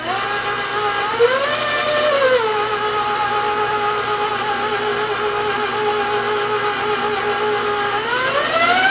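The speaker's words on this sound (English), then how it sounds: "now I'm just going to beat it till it's well mixed" An electric mixer beats brownie batter with a loud, steady motor whir, its pitch rising and falling slightly at times as it works, with no one speaking.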